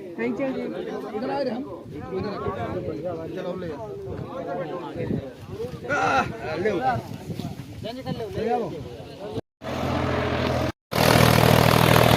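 A Solis tractor engine runs in a farm field, its steady droning rumble sitting mostly under chatty voices before swelling loud and unmasked in the final seconds.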